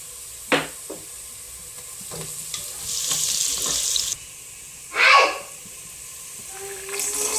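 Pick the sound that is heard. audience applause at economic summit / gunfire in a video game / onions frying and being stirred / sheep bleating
onions frying and being stirred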